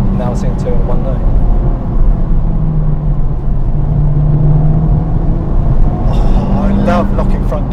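A Honda Civic Type-R FK8 hatchback driving, its steady engine drone and road roar continuous and close from the cabin, with a rise in revs near the end while people talk over it.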